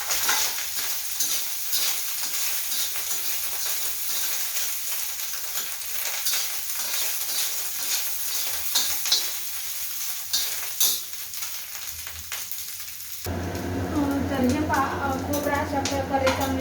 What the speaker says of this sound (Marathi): खोबरं भाजून घेते.